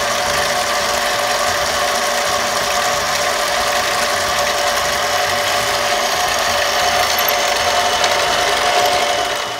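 A loud, steady mechanical whir of a Central Machinery lathe drilling a hole in a bolt grinds on without pause, a dense continuous machining noise with no voices.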